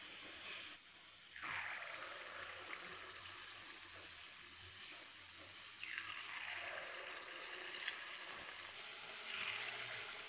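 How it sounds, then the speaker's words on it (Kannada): Spoonfuls of leftover dosa batter dropped into hot oil, each bringing a fresh burst of bubbling sizzle that settles into a continuous close frying hiss, with a few faint utensil knocks. "ನಾನು ಈ ಸ್ಪೂನ್ನಲ್ಲೇ ಇಷ್ಟು ತೆಗೆದು ಎಣ್ಣೆಗೆ ಹಾಕ್ತಾ ಇದ್ದೇನೆ."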